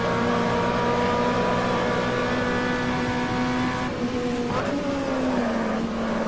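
Fiat Uno engine with a decades-old design, front-wheel drive, in the Automobilista racing game: a steady buzzing drone held at constant revs, then dipping and wavering briefly as it shifts before settling again, loud and alone.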